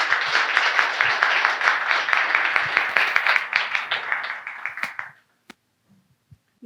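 An audience at a book launch applauds loudly with dense, steady clapping that thins out and stops, followed by a few scattered stray claps in the quiet.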